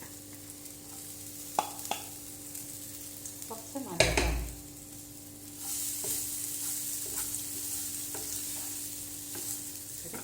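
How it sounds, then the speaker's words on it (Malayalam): Grated coconut frying in ghee in a hot pan, a steady sizzle with occasional stirring scrapes and a loud clatter of the utensil partway through, then the sizzle grows fuller and continues. "എന്നിട്ടത് ചൂടായാൽ ഇനി നമ്മൾ ഇത് തേങ്ങ ഇട്ട് വറുക്കുക"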